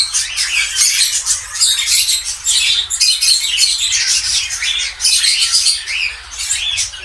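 A female dove held in hand just before release, with close, rapid squawking and chirping bird calls running steadily through the whole stretch, loud and busy with only brief dips.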